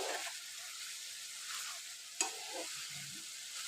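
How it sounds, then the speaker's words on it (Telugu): Cucumber and tomato are stirred as they fry in a pan, a quiet sizzle with soft scraping and one sharp clink of the spoon against the pan, heard close and alone. "దోసకాయ టమాటా ఇవి ఎక్కడ దాకా ఫ్రై అయినాయో ఒకసారి ఇట్లా మంచిగా మిక్స్ చేసుకుందాము"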